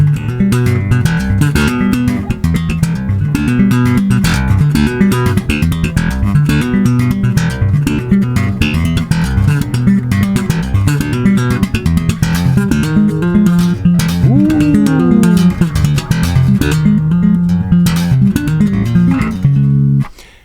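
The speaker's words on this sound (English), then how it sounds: "really, really intense slapping" Intense slap bass, a dense, continuous stream of percussive popped and thumbed notes. It is loud and close throughout, with no talking, and stops abruptly at the end.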